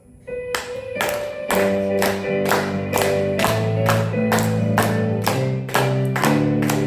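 A church congregation claps together during worship, sharp in-time claps repeating about twice a second over instrumental music, loud and close.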